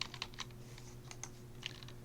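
Quick, light keystrokes on a computer keyboard, a steady run of soft clicks close up over a low hum.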